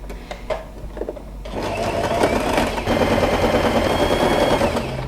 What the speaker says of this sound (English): we are going to sew a straight line like right here